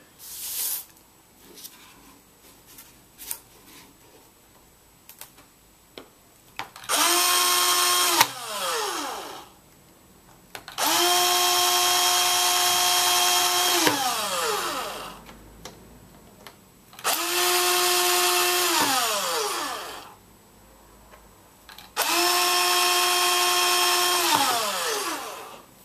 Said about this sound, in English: And then the drill.